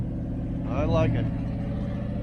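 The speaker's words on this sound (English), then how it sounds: "It's on high idle. Still loud." A car engine with a muscle-car look runs steadily on high idle, a loud, continuous low rumble that persists while someone talks briefly over it.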